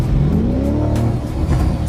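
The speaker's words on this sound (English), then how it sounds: "the exhaust, when it downshifts, just pops and crackles" A Lamborghini Urus engine revs hard and accelerates, a loud, close, sustained roar whose pitch climbs steadily and then eases, with no talking over it.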